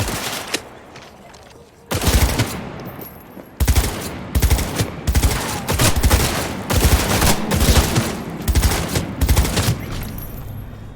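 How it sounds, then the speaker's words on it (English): Rapid bursts of automatic gunfire from the video game Cyberpunk 2077 repeat almost continuously after a quieter opening, loud and dense with brief gaps between volleys. "Gotta get better at this shooting thing."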